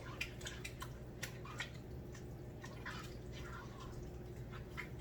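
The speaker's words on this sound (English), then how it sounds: "And now we're going to stir it." Wet clinking and light drips as a mix is stirred in a kitchen bowl, a steady soft churning with small utensil taps against the bowl, faint and close, with no talk over it.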